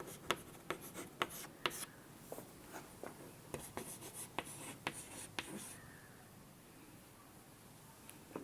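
Marker or chalk writing on a board during a physics lecture on electrostatics, with a rapid series of sharp strokes and squeaks in a quiet room, trailing off into softer rubbing.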